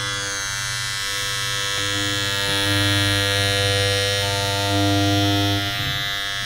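An electric hair clipper buzzes steadily during an ASMR haircut, a close, continuous humming drone that swells slightly at times, with no talking.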